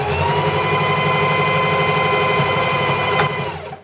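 A sewing machine runs continuously at steady speed, stitching fabric along a seam with the presser foot, a loud close mechanical whir that slows and stops at the end.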